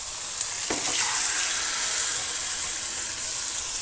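Chicken pieces fry in a paste of ground cumin and chilli, giving a close, loud sizzle with a brief stirring scrape near the start before the hiss settles into a steady crackle.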